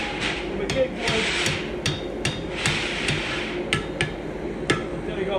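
A blacksmith hammers an iron bar to fold a pigtail curl, giving about a dozen sharp, ringing metal strikes in an uneven rhythm, close and loud over a workshop hum.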